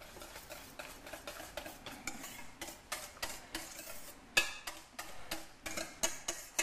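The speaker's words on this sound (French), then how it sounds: "Je mélange." A spoon beats rhythmically through a dessert mixture with vanilla sugar in a bowl, each stroke giving a crisp tapping scrape at a steady, quick pace, close and moderately quiet with no talking.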